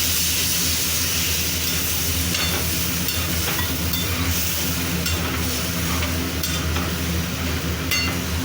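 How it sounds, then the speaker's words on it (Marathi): A hot pan of curry sizzles after a little water is poured in, producing a steady, dense hiss and bubbling with faint stirring clicks, close by and without talk. "पाणी टाकून देते मी थोडंसं"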